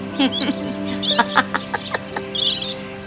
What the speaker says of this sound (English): Oh, that bird is the robin.